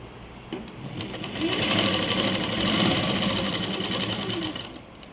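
Sewing machine stitching a blouse sleeve, a steady close mechanical whir that rises in speed after a brief start and runs continuously before slowing at the end.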